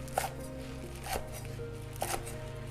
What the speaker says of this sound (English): And for the Thai basil, we only need the leaves. Okay, and chop it into